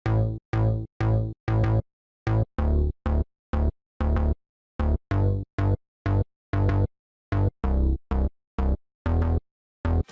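A chopped synth bass line follows the bass notes of an 80s synthwave beat, short punchy stabs in a bouncy, syncopated rhythm with clean gaps between hits, loud and alone.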